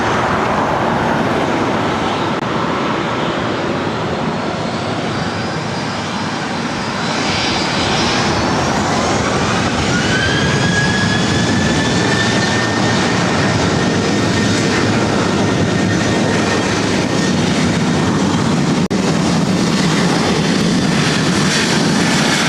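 A fixed-wing airliner takes off at LAX, its jet engines roaring loudly and continuously at close range, the pitch rising slightly as the aircraft accelerates away.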